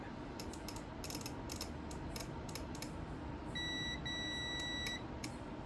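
A relay on an IFB front-load washing machine PCB clicks with 12 volts applied: a run of quick, sharp mechanical clicks over a steady electrical hum, with thin beeping tones partway through.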